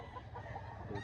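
Faint clucking from a rooster or other fowl at a chicken expo in Mantalungon, Barili, Cebu, heard as soft, short calls against a low background hum of the crowd.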